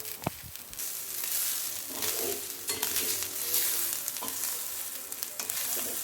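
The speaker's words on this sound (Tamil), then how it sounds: "கை விடாமல் நல்லா மிக்ஸ் பண்ணி விட்டுட்டே இருங்க." Grated coconut stirred steadily in a pan over a low flame, giving a continuous soft sizzle and frying hiss with scraping stir strokes throughout, close and moderately loud, with no talking.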